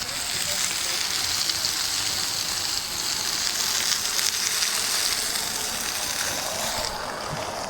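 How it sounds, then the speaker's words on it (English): Roast and vegetables cooking over open campfire flames, a continuous sizzling and crackling hiss close by, with faint voices in the background. "yes, we are cooking over flames, not coals"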